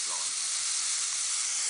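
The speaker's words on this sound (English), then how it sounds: "You've got a steam leak for one." Steam leaking from a homemade Coke can turbine steam engine, a continuous even hiss that stays steady from start to finish, close and moderately loud.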